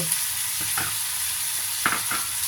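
Crab stir-fried with spring onion and sesame oil, a soft, continuous sizzle in the pan with a few brief spatula scrapes, fairly quiet and close.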